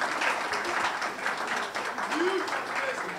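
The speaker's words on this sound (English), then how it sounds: "I think we can do another round of applause for him." An audience at a lecture on Ghana's constitution gives a speaker steady, sustained applause that fills the room for a few seconds.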